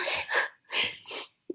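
A person gives a breathy, drawn-out sneeze in two bursts, close and fairly loud. A short, soft vocal sound follows at the end, with no speech over it.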